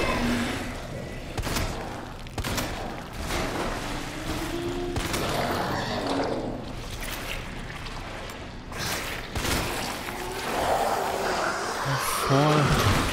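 Sharp gunshots crack out in scattered bursts from Resident Evil 2 Remake, mixed with engine and mechanical noise while people talk over them.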